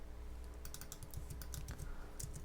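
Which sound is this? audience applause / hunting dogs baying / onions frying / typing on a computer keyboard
typing on a computer keyboard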